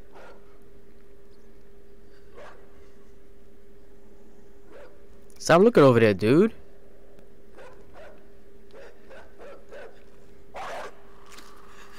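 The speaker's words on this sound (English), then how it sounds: "Oh, it's a dog over there." A dog barks in a dark side-scrolling puzzle platformer, a loud burst of several quick growling barks in the middle, with a person talking casually before and after over a steady low game hum.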